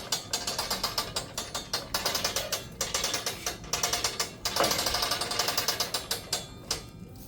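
A clay slab roller is cranked while a slab is run through again, producing a steady, loud, rapid ratcheting clatter of gears and pawl, close by and with no talk.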